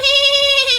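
A man imitates a goat's bleat with his voice, a single loud, sustained wavering cry lasting under a second, close to the listener.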